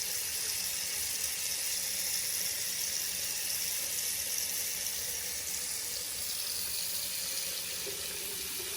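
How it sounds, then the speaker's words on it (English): Warm water pours steadily from a tap while a hot water heater is being fixed, a continuous close hiss and splash with no pauses. "having some warm water coming out"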